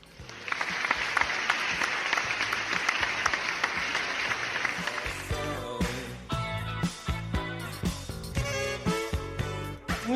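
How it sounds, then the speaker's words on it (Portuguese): Studio audience applause for a guest on a Brazilian tech podcast, steady dense clapping for about five seconds, then thinning into scattered claps as music-like tones come in. "vamos deixar aqui uma salva de palmas pro Francis Guimarães"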